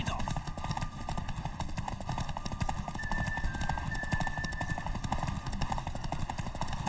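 Steady rhythmic hoofbeats of a galloping horse in The Witcher 3 over a constant background bed, continuous and fairly close, with faint game-like ambience.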